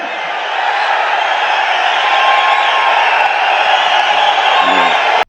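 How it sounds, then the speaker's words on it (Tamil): Loud, sustained applause and cheering from a large crowd at a political rally for Amit Shah, a dense roar of clapping and whoops that holds steady for several seconds before cutting off abruptly. "காது கிழியிற அளவுக்கு கிடைக்கிற கிளாப்ஸ் சவுண்டு"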